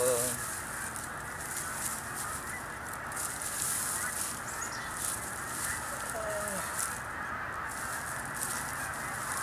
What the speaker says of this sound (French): Il y a les oies qui sont en train de partir